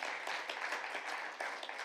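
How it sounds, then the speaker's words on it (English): Applause from a conference audience after a talk on smart Arctic cities, a brief, fairly faint patter of many hands clapping steadily throughout. "We have applause."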